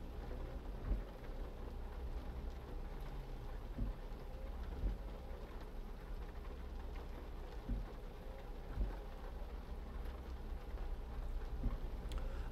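Steady rain drums on a truck cab while driving in Euro Truck Simulator 2, a dense even hiss over a low engine rumble, with occasional soft knocks throughout.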